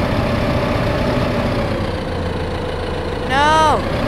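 Tractor engine in the video game Farming Simulator, a steady low idling drone throughout with a brief higher whine near the end, a voice talking over it.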